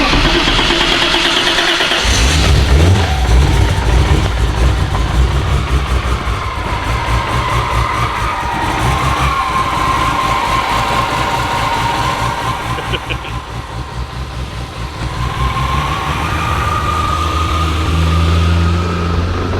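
Toyota 2JZ engine swapped into a Scion FR-S with a full exhaust, cranking and catching, then settling into a loud, steady, slightly lumpy idle with a few small revs, heard up close with no talk.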